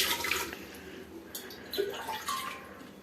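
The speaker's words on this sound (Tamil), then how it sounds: "ஸோ இந்த அளவுக்கு 2 டம்ளர் தண்ணி ஊற்றினா போதும்." Water poured from a tumbler into a pressure cooker holding eggs, a soft, fairly quiet splashing and trickling in a couple of short bursts with no talk over it.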